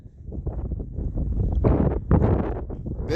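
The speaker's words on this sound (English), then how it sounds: "it is very windy here" Strong gusting wind on a mountain ridge in the Muddy Mountains Wilderness, Nevada, buffets the microphone with a loud, rumbling roar that surges and eases in waves.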